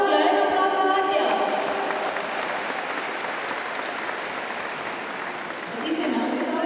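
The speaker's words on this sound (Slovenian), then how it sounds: "en aplavz za Atija" An audience at a live children's TV show applauds, a broad, sustained clapping that swells and then holds steady, with a voice heard over it at the start and again at the close.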